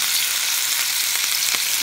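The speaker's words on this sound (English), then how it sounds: "Freaking grease popping is going on my skin" Hot grease in a pan sizzles steadily with a bright hiss, broken by several sharp pops and crackles as food fries close by, with no voices.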